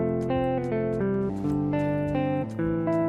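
Afrobeat mix in FL Studio with stock reverb and delay: sustained keys or synth chords changing every half second or so, with smooth echoing tails, steady and moderately loud, no voice.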